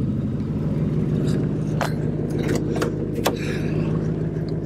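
A lowered 2005 Mercury Grand Marquis GS rumbles past with a loud, deep exhaust drone that stays steady throughout, with a few sharp clicks and knocks rising over it.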